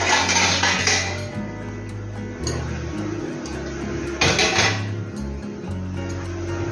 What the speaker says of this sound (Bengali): আমি এবার একটা ঢাকনা দিয়ে ঢেকে রেখে দিচ্ছি।